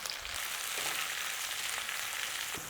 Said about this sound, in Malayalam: സവാള ഇട്ടിട്ട് നമുക്ക് നല്ലോണം ഒന്ന് വഴറ്റിയെടുക്കണം.